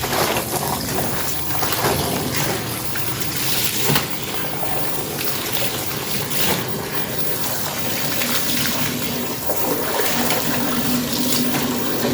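Water runs and splashes steadily as laundry is rinsed by hand, a loud continuous gush with sloshing bursts throughout.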